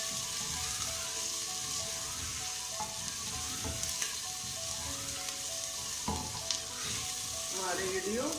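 Chicken fries in a pan for a corn flour chicken curry, a steady loud sizzle with occasional scraping stirs and clinks of a utensil against the pan.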